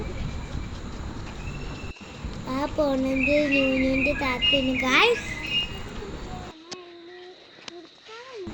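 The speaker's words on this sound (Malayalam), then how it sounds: "നിങ്ങൾക്ക് കിളികളെ സൗണ്ടങ്ങളൊക്കെ കേൾക്കാം." Birds chirp and call in bursts outdoors while a person talks nearby, the calls fading into quieter surroundings afterward.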